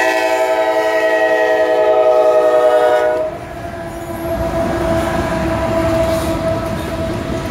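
A CSX freight train hauling Tropicana orange juice rumbles past close by in Brandon, Florida, with a loud, sustained horn blast that cuts off partway, leaving the steady roar of rolling wagons.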